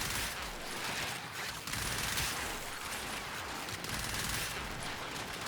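Dense, continuous gunfire from a primary weapon in the video game Warframe, loud and sustained as a noisy burst-filled wash across the whole stretch, with no talking.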